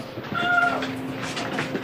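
A weak, emaciated cat found trapped beneath a rocking chair gives a short, thin meow, heard close and alone over faint background noise.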